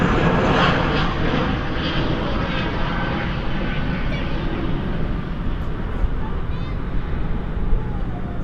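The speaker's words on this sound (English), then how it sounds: "Spoilers up, reversers out on this A321." An Airbus A321 lands at night at Dallas/Fort Worth airport with spoilers up and thrust reversers deployed, a loud sustained jet roar and rumble that holds steady throughout before easing slightly toward the end.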